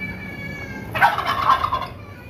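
A turkey kept in a pen gobbles once in a loud, rattling burst that lasts about a second. Low rumbling background noise runs underneath, and no one speaks.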